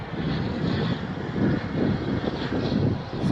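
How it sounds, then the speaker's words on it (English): An Embraer 175 regional jet operated by SkyWest, on the ground at Phoenix airport: a loud, rumbling engine roar with a broad whooshing hiss that swells and fades slightly, heard with no talking. "So in the background, it's actually an Embraer."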